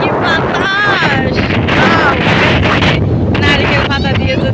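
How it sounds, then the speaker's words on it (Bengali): Strong wind blowing hard across floodwater that has spread over a village, a loud constant roar buffeting the microphone, with faint voices under it. "কি বাতাস!"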